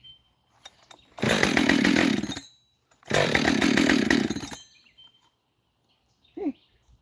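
A Husqvarna chainsaw is pull-started outdoors, giving two loud, rasping bursts of engine noise about a second long each, with a short gap between them, then a quiet stretch with a brief bird chirp.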